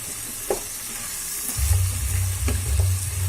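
Soya chunks sautéing with salt in a pan give a constant crackling sizzle, with a few spatula scrapes and a low humming rumble that rises partway through.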